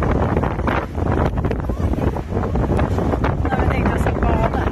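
Strong wind roars and buffets the microphone in loud, continuous gusts on the coast at Rhodes, Greece, with a voice speaking underneath and the rush of waves faintly audible.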